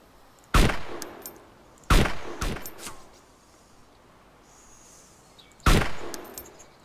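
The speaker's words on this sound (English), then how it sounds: "Can you take a shot?" Gunfire in the survival video game DayZ: three sharp, loud single shots spaced a few seconds apart, with a fourth shot close behind the second, each trailing off into a short echo over quiet outdoor ambience.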